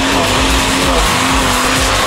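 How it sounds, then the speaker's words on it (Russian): A Lada Granta struggling off-road in a forest, its wheels spinning and the clutch slipping: a loud, continuous engine roar with a high, steady whine, close and dense, with no talking. "А у него буксует, наверное, сцепление."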